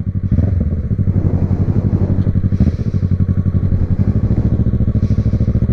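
A Yamaha MT-03 two-cylinder sport motorcycle engine idles and revs up close, a steady rapid pulsing throb that surges and falls a few times, loud and unbroken, with no talking.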